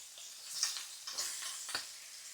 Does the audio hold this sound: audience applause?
no